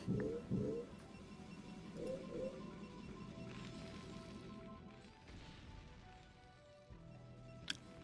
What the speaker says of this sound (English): Oh no, that was just another explosion.